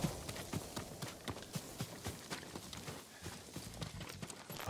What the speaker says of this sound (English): Farm horse.